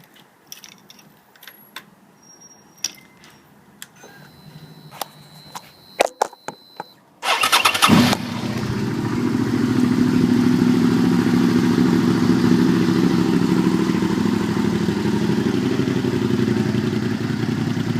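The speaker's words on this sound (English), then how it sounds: "I'm actually going to start up the bike and let you guys hear it." Clicks and mechanical fiddling, then a 2005 Suzuki SV650S motorcycle engine cranks and fires up loudly, settling into a steady, rumbling idle that continues close by.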